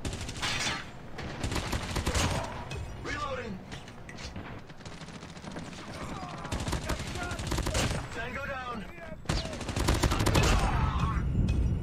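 Bursts of automatic gunfire in the Call of Duty Mobile video game, rapid dense volleys starting and stopping over a loud, busy soundscape with other game noise throughout.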